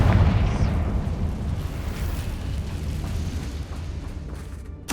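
A Confringo fire spell bursts in Hogwarts Legacy: one loud explosive boom with a rumbling, crackling tail that slowly fades, followed by a small pop at the end.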